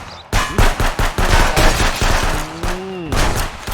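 Rapid, loud bursts of gunfire in quick succession, punchy shotgun blasts from the video game ContraBand Police, with a voice shouting briefly between shots.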